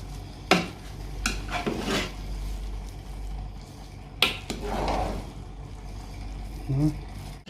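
Chicken biryani being mixed in a pot, with a few sharp metal scrapes and clanks of a spoon against the pot over a steady low background, and a soft stirring rustle between them.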